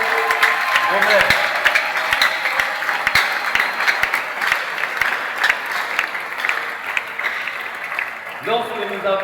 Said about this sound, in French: Moi, je vais demander à l'Assemblée ici présente de les confirmer avec des applaudissements nourris.